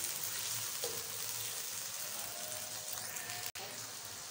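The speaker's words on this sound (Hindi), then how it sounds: "अब प्याज को सोते करेंगे हम।" Onions sautéing in a pan for a Gobhi Gosht curry, a soft, even sizzle that hisses steadily throughout with one brief interruption, fairly faint and without talking.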